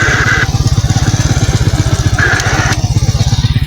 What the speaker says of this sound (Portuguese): Vou ligar a moto aqui pra você ver como é que tá o barulho da moto.